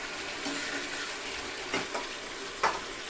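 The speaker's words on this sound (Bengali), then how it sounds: "এবার আমি কোনো ঢাকা দেব না মাংসটা এভাবেই জাল হতে থাকবে" Mutton bubbles uncovered in a pan of thick gravy for biryani, a steady close hiss and sizzle with a couple of soft stirring splats, and no one talking.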